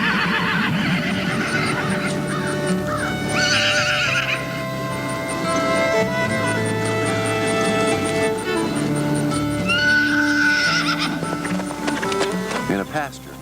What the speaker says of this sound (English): In a pasture nearly a quarter-mile away, the mares recognize their babies' distant cries.